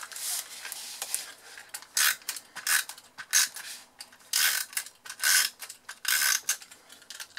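A snail adhesive tape runner is dragged across a box, giving repeated short scratchy rasping strokes with brief pauses between them, close and fairly quiet, with no talking.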